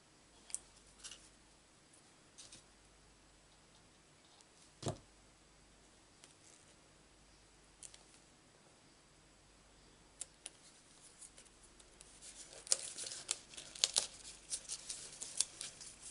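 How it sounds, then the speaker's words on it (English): Scissors trimming overhanging paper card stock for a stamped flower card craft: a few faint isolated snips early on, then busier crinkly cutting and paper handling toward the end, with no talking. "I take our scissors and we trim off what's hanging over."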